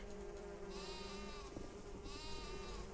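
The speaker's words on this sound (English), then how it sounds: "there's a sheep" A sheep bleats twice in the Viking survival game Niffelheim, short wavering calls standing out over a constant low background hum and buzzing ambience.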